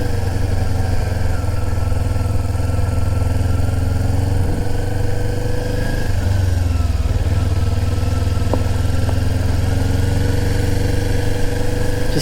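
A motorcycle engine runs steadily in first gear with a strong low rumble throughout, ridden at easy pace in warm, breezy weather, with no talk over it.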